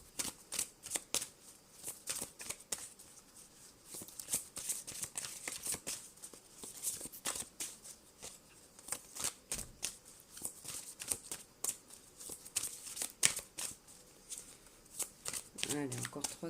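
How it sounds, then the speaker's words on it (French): Tarot cards being shuffled at close range, a dense run of crisp riffling and flicking bursts with short pauses, kept fairly quiet throughout while a voice speaks now and then. "Allez, encore 3 cartes, Gaïa."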